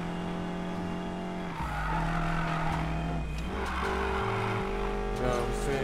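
A BMW X6M drifting in the Need for Speed Payback racing game, its engine droning loudly with shifting revs while the tires squeal and skid continuously up close.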